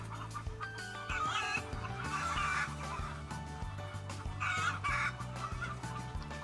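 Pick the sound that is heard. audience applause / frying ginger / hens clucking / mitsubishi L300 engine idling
hens clucking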